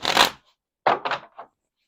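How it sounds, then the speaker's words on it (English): A tarot deck being shuffled by hand, one quick riffle followed by a short pause and then a few brisk, close papery bursts that end abruptly. "One more shuffle."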